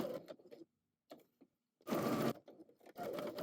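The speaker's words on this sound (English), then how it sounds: "pair them right sides together and sew around the perimeter" A domestic sewing machine stitches pocket flaps in short bursts of whirring, separated by pauses, with a longer steady run near the end.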